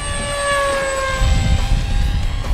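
A Banana Hobby Sky Surfer V5 RC airplane drones past in a slow flyby with a high whining tone that slowly drops in pitch as it goes by, wind rumbling low underneath.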